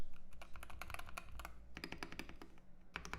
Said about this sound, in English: time for typing sound test, typing test